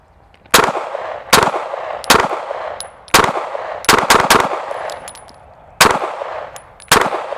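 FN509 factory pistol fired without a compensator: eight sharp, loud gunshots at uneven intervals, each with a brief ringing tail, and no talking.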